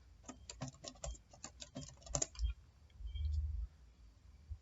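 Keys on a computer keyboard clatter in a quick run of separate clicks as a new password is entered, then a few scattered taps follow. The typing is close and fairly faint.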